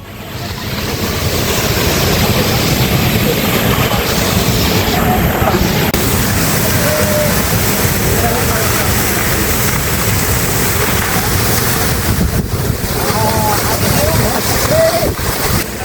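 Close, loud rush of water pours and sprays at the source of the Narmada River in Amarkantak, a steady roaring wash with splashing, as someone talks over it.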